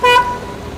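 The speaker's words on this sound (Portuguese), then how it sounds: "Tá ouvindo a buzina?" A single short car horn toot, loud and close, fading into low street and engine background with no talking.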